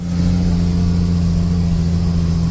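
Fertilizer truck labouring up out of a coulee, its engine a steady loud low drone with a strong hum under load, continuous and close throughout with no talking.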